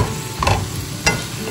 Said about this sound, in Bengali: এবারে জল আর হেভি হুইপ ক্রিমটা মিশিয়ে দেব গ্রেভিটার জন্য